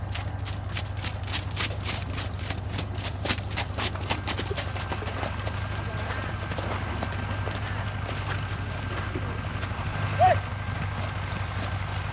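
Horse hooves clip-clop at a steady trotting rhythm during a ride with students on a trip in Kyrgyzstan's Alai region. The beats are clearest early on and sit over a constant low rumble and outdoor noise.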